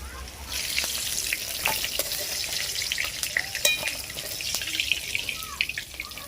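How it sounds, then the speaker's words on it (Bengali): Vegetables frying in hot oil, a steady crackling sizzle throughout with occasional sharper pops and stirring scrapes, close by. "সমস্ত সবজিগুলোকে এমনভাবে ভেজে নিতে হবে এখানেই যেন 3 ভাগ সেদ্ধ হয়ে যায়"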